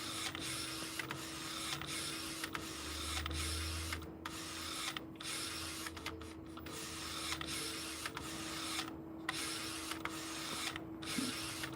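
A direct-to-garment (DTG) printer printing onto a T-shirt, with a steady mechanical hum and a constant tone, plus repeated clicks as the print head shuttles back and forth, close and even throughout.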